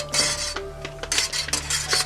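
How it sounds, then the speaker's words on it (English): A metal spoon stirring a pinch of stevia sweetener into stuffed pork chop filling in a bowl, with light clinks and scraping taps over about two seconds. "I got a spoon and I shall stir it in."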